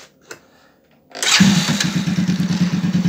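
A small 110–125cc Cub-type motorcycle engine cranks and catches after a moment of near silence, then settles into a loud, steady, pulsing idle close by.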